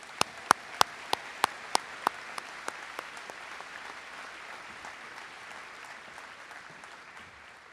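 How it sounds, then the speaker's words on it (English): Applause for senior athletes at a 2022 school awards ceremony: a dense wash of clapping from a seated crowd, with a few sharp, loud claps standing out at first, then the sound thins and fades over several seconds. "Please give these athletes a giant round of applause."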